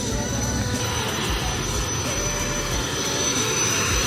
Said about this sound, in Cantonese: 都有好多水上飛機喺度起飛同埋降落。